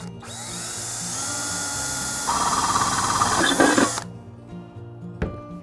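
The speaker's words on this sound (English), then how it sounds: "I just use my drill with a metal drill bit" A power drill with a metal bit whines steadily, then bites into a thin metal paint can with a harsher grinding, followed by a brief clatter and quiet.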